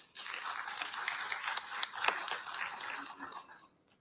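An audience claps for a lady being honoured at a formal gathering, a steady burst of many hands that swells briefly and then fades out.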